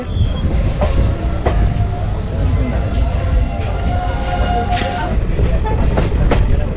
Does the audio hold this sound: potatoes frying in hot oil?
no